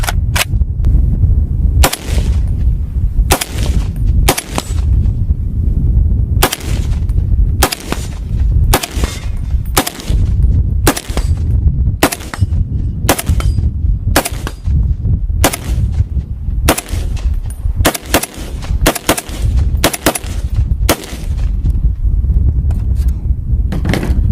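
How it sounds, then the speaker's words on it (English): Rifle rounds of a bigger cartridge fire one after another, each shot a loud, sharp, close crack with a short decay. Around twenty shots come at uneven intervals of about one second, with no talking. "This one's a lot of fun to shoot because it is still manageable, but you're dealing with the bigger round"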